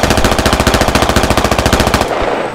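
Sustained automatic gunfire from the tactical shooter Squad, a rapid, even burst of close, loud shots lasting about two seconds before cutting off.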